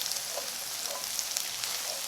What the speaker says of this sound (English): Now I'll add in the garlic. Give it a stir.